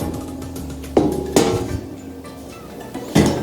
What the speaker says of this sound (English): We're gonna remove the oil container.